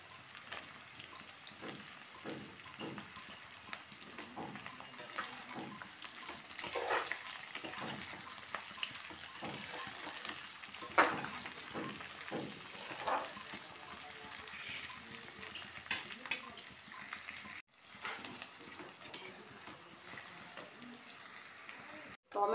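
Green chillies and capsicum frying in a pan for dry chilli chicken, a steady close sizzle with scattered stirring clatter and bursts, under intermittent talk.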